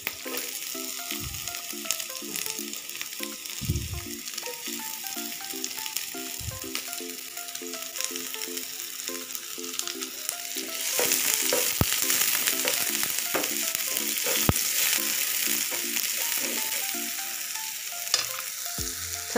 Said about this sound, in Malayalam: അത് കഴിഞ്ഞിട്ട് നമുക്ക് സവോള കൊത്തി അരിഞ്ഞത് നമുക്കിതിനകത്ത് ചേർക്കാം